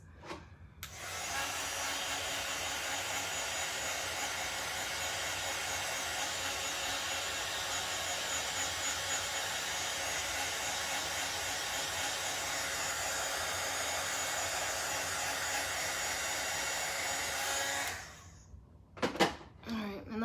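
A handheld hair dryer blows steadily and fairly loudly for about sixteen seconds to dry wet chalk paste, then clicks off, followed by brief handling noises.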